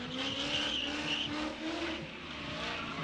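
A drift car at a stunt show skids with a sustained, wavering tire squeal over a rough engine roar, loud and steady for the whole stretch before easing slightly near the end.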